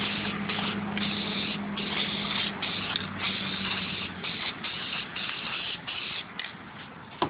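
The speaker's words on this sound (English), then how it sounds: "I'm going to spray all these" Continuous spray-paint hiss coats carved foam fake rocks, loud and steady for about seven seconds with brief pulses where the nozzle is released, plus a low mechanical hum under the first half; no talking.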